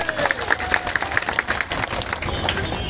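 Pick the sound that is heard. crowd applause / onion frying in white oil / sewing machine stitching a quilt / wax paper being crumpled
crowd applause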